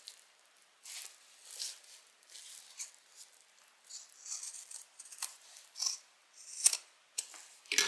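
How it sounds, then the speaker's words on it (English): Scissors snip through fabric trimmed from a sewn beverage bag, giving a series of quiet, close, irregular crisp cuts with light rustling between them and no talk. "Now I'm going to cut this part off."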